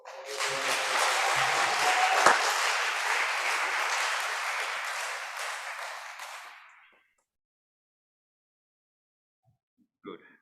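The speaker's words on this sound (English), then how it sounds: "Can we have a round of applause?" Audience applause at a Shabbat evening synagogue service, warm sustained clapping for about six seconds that gradually fades to silence, with a faint voice near the end.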